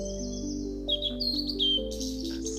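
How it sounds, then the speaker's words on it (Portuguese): Several bright, quick birdsong chirps and whistles, heard in a nature setting, rise over a soft, sustained musical drone during the second half, moderately close. "ao seu redor você ouve o canto dos pássaros em todas as direções"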